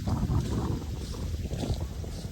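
Steady wind buffets the microphone outdoors during a V kite test flight, a continuous low roar with gusty swells and no voices.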